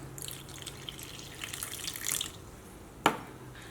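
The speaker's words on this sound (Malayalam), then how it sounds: "സെയിം കപ്പിൽ തന്നെ 1/2 കപ്പ് വെള്ളം ചേർക്കുക, സാധാരണ വെള്ളം." Water poured from a cup into semolina (rava), a soft close trickle and splash building for about two seconds, then fading, followed by one sharp short clink near the end.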